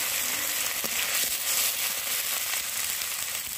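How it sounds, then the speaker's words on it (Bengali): Cumin seeds and crushed ginger hit hot oil for a mackerel fish curry with papaya, giving a steady loud sizzle and crackle, close and continuous, with a couple of faint knocks. "তেলটাও গরম হয়ে গেছে, তো আমি এখান থেকে কিছুটা জিরে দিয়ে দিচ্ছি।"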